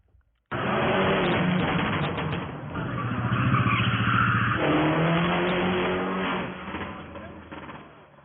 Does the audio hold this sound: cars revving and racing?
yes